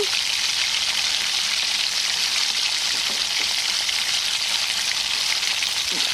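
Kebab frying in hot oil outdoors on a village hillside, a steady bright sizzle and crackle holding even and close throughout, with a few faint pops and no talk.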